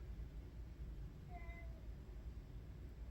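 A cat lets out a single faint, drawn-out, plaintive meow partway through, set against a low steady indoor hum in a quiet room.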